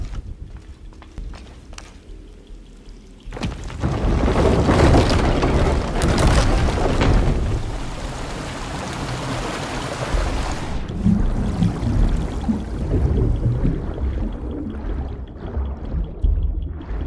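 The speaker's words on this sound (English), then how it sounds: "This lever should raise the water level." A sudden heavy rush of water surges in after a lever is pulled in Shadow of the Tomb Raider, a loud, roaring pour that holds for several seconds, then settles into a continuous churning wash.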